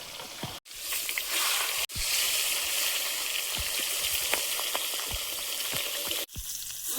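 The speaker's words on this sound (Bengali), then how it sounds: "তেল গরম হয়েছে, মাথাটা ভেজে নেব।" A catla fish head fries in hot oil, a loud, close, continuous sizzle with brief sharp breaks and spattering pops as it is moved in the pan.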